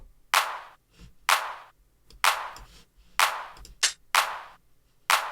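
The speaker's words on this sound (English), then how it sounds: "Simple 909 clap." A Roland 909 drum machine clap sample repeats six times at a steady pace, each a sharp, bright burst with a short noisy tail, heard alone and up close.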